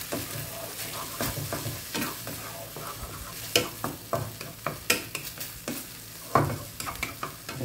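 Canned fish frying in oil in a wok while being stirred, a steady sizzle broken by scraping spatula strokes and clacks, close and fairly quiet, with no talking.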